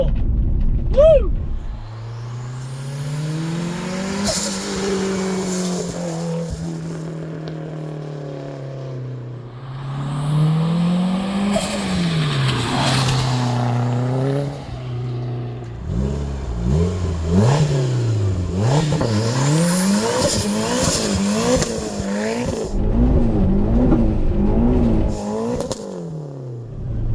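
A turbocharged Mitsubishi Eclipse GSX with a green turbo and Hellcat parts pulls hard at full throttle, its engine note rising and falling through repeated loud surges and gear changes up close, with excited voices over the engine.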